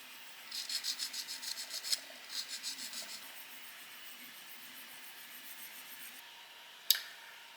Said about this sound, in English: So now I take this file and grind front face of this strip down.